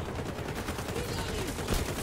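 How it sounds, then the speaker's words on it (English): Shotgun fire in the video game XDefiant pops out of busy game audio, with a few sharp blasts over a dense, noisy background and a voice faintly present. "the shotgun works if you hit them"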